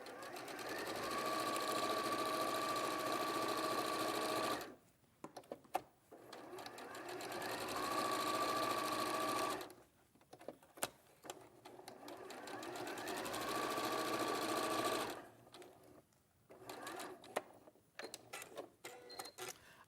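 Sewing machine stitching quickly across a seam on sashing strips for a quilt, in three steady runs separated by brief pauses and small clicks, close and clear.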